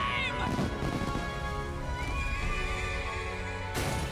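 A horse whinnies loudly amid clip-clopping hooves and battle sounds in the video game Metaphor ReFantazio, over a dense music and effects bed.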